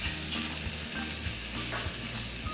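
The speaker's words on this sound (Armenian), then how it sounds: "շատ կարևոր է ճիշտ տապակել միսը" Meat fries in a hot pan for a Tavush fried cabbage stew, a loud, continuous crackling sizzle with occasional stirring scrapes and no talking.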